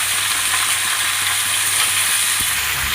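Tomatoes sizzling and frying steadily in hot oil with turmeric and sugar for a Bengali chorchori, a loud, continuous close crackle with no talking.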